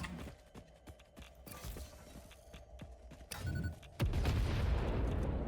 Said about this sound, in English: Such a big explosion in such a tiny little space.